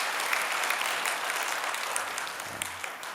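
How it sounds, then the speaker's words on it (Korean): A church congregation claps in welcome for newcomers at a Sunday worship service, a dense, even burst of many hands lasting a few seconds. "우리 새로 오신 식구님들 위해서 다시 한번 환영의 박수 해주십시오."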